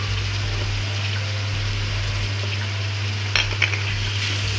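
Tomatoes and green chillies going into onions and seeds frying in oil for stuffed tinda, giving a steady close sizzle with a brief clink or stir near the end, over a constant low hum.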